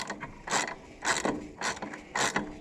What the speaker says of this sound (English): I love my ratchets drenched in antifreeze